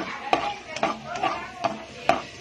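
Onions in cooking oil are stirred in a pan, giving a handful of distinct scraping knocks of a utensil against the pan over a faint sizzle.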